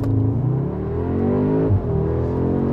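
An Audi S3 sedan launches and accelerates hard in Dynamic mode on a wet road, its engine note climbing steadily in pitch, with a brief shift dip midway before the revs rise again, heard from inside the cabin.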